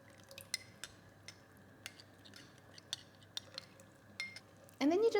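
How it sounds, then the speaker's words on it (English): A spoon stirs cornstarch and cream into apple pie filling in a pot, making faint, quiet clinks and scrapes at irregular intervals, with a voice starting to talk at the end. "And then you're just going to stir."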